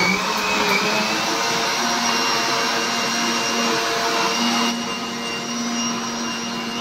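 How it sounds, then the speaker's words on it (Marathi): A mixer grinder whirs loudly and steadily while making juice at home, a constant high-pitched motor whine that shifts slightly in tone partway through and runs without pause. "इथे मिक्सर"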